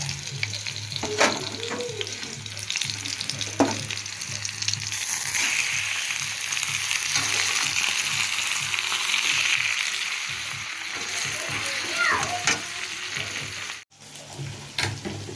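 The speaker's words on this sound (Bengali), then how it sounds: "ইলিশ মাছের মাথাগুলো ভেজে নিলাম" Hilsa fish heads sizzle steadily in hot oil, with occasional stirring clinks and scrapes and a bit of faint background noise.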